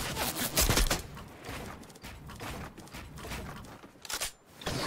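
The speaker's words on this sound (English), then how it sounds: "Stop shooting me." Rapid bursts of gunfire in the video game Fortnite, dense overlapping shots and impacts in quick clusters, loud and close, with brief lulls between volleys.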